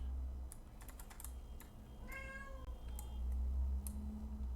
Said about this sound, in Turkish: Kedi miyavlıyor.